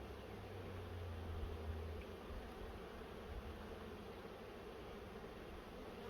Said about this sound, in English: there are a lot of bees on the top super here.